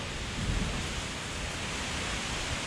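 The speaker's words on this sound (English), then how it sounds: "We're getting a nice little rain right now." Steady, even hiss of rain falling, continuous and fairly soft, with no voices.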